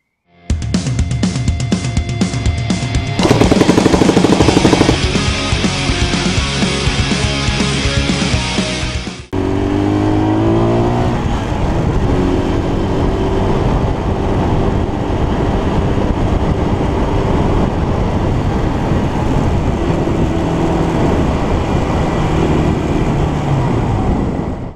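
A Honda CL175 cafe racer motorcycle engine runs loud and close, with rapid throttle blips that swell its pitch before settling into a steady, rough running note for the rest of the stretch.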